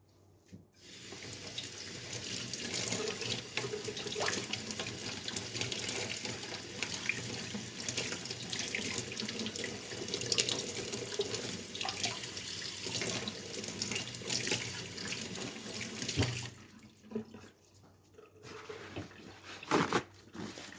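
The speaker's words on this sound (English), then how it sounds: "And then rinse the pieces." Running tap water pours steadily into a sink as gold-plated jewellery pieces are rinsed, a continuous close splashing stream that breaks off briefly near the end before resuming.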